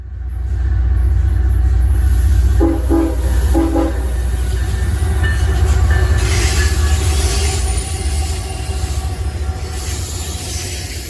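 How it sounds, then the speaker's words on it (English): An eastbound CSX/NS freight trash train rolls past in Maryland, its loud, steady rumble and rail clatter filling the scene, with a short horn blast and squealing wheels rising over the continuous roar. "Next is an eastbound trash train, which thoroughly stank the place up as it passed by."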